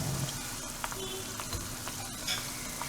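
Badusha dough deep-frying in oil over a low flame, a steady soft sizzle and fine crackle running throughout at moderate level, with no talking.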